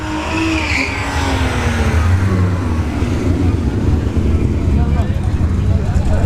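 Street cars run down a drag strip at a Street Warz event, engines roaring loud and close as they pass, with an announcer talking over the noise throughout.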